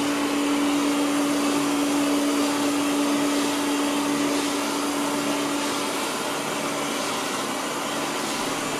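An Ecovacs Deebot Ozmo T8 AIVI robot vacuum runs close by with a loud, constant suction whir and a steady hum that fades slightly partway through, no talking.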